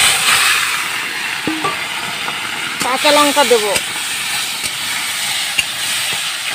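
Mustard seeds temper in a very hot kadai with a steady hiss and scattered pops, while someone talks over the sizzle.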